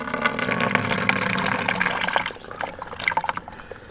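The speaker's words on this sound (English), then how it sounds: "you will be able to see the water coming from the other part of the nose" During a neti nasal rinse, water runs out of the nostril in a steady splashing stream that breaks into trickles and drips toward the end, close up.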